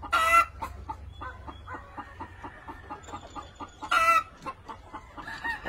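Kelso gamecock roosters on a farm cluck in a quick rhythmic series, close and fairly loud, with two loud crows breaking in at the start and again near the end.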